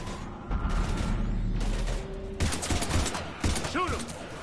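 Bursts of rapid gunfire are aimed at husks in Mass Effect 3, with loud volleys and booms overlapping near the listener. Shouted voices and a low rumble run through the chaotic firefight.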